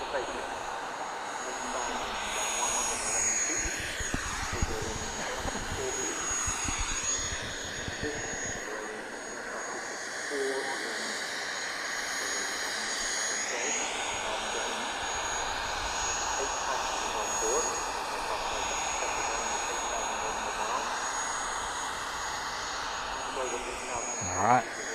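A fixed-wing aircraft departs at the Farnborough Airshow, its jet roar rising and sweeping in pitch across the whole stretch, loud and sustained with crowd ambience beneath.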